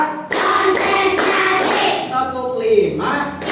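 A classroom clapping game, with sharp rhythmic claps counted out in sequence while a voice leads and chants over them.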